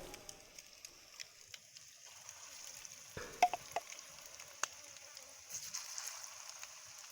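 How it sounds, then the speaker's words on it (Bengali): Spoonfuls of egg and lentil batter frying in hot oil, a faint steady sizzle broken by scattered pops and crackles, with occasional spoon clinks. "বাকিগুলো এইভাবে আমি তেলেতে ভেজে নেব"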